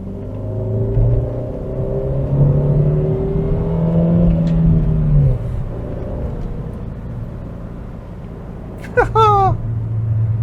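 Ford Focus Mk1 Millennium Edition driving, a steady engine rumble and road drone heard from inside the cabin, with a short bright chirp near the end.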